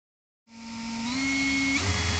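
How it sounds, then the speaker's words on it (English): A power drill whirs up from silence and holds a steady, rising whine, spinning to wind wire into a framed staple coil, with a slight pitch shift partway through as it keeps spinning close by. "Just reverse your drill"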